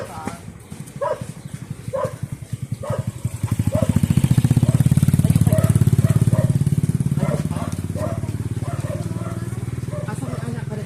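A small motorcycle engine runs with a steady low putter that swells louder midway and stays close, with voices talking over it.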